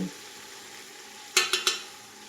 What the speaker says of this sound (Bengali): মশলা অ্যাড করে দিব